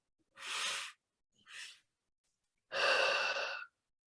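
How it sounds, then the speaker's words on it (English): Slow, deliberate breaths during a guided meditation: two short inhalations, then a longer, stronger exhalation after a pause, close and clear against near silence. "As you continue that breathing pattern,"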